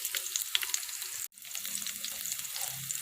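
Green chillies fry in hot mustard oil with onions and bay leaves, giving a steady close sizzle throughout with a brief dip near the middle.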